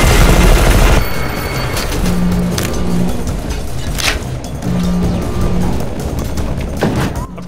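A turret in the video game E.Y.E. Divine Cybermancy fires at the player in loud, dense bursts of gunfire with booming impacts, continuous across the whole stretch with no pause.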